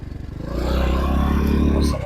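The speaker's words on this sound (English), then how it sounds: "What you're hearing, if you hear that sort of noise, that's actually the chain guide back there." A Trailmaster TM31 minibike running, with a rattly mechanical whir from its worn chain guide bearing. It swells after a brief start into a steady, close rumble and cuts off near the end, with a voice faintly underneath.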